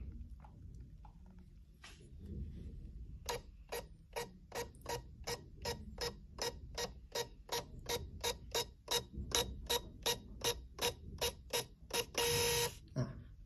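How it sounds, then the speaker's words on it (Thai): A VPOS VP-58IIZ 58 mm receipt printer prints a test receipt over Bluetooth, making a steady train of rapid mechanical chatters, about two per second. A short louder whir follows, likely the paper feeding, close and clear with no voices. "พอจับคู่เสร็จเนี่ยเชื่อมต่อเรียบร้อยแบบนี้นะครับก็ลองพิมพ์ได้เลย"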